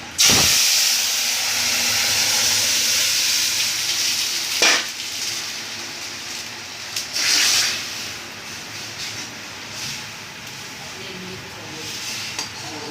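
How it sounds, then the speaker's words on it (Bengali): Lentils poured into hot tempering oil, setting off a loud, steady sizzle that continues throughout with a few brief sharper bursts. "এই যে হয়ে গেছে আমাদের ফোড়নটা এবার আমরা ডালটা ঢেলে দেবো"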